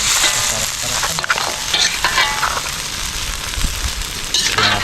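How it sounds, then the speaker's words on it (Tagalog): Mud crab caught in a bokatot trap being stirred in a hot pan, with a steady sizzle and crackle and repeated scraping strokes of a utensil throughout, close and fairly loud. "Haluin natin ng maganda."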